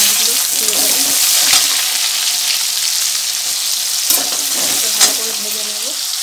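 Whole garam masala spices frying in hot oil for a chicken curry, a steady bright sizzle with stirring scrapes and a few utensil knocks, close and continuous with no talk.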